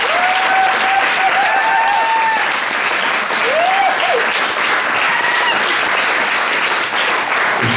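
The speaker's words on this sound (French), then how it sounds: "des applaudissements pour Olivier" Concert audience applauding at a show in Cambremer, a dense, sustained wash of clapping that carries on evenly throughout, with a couple of brief whistles rising above it.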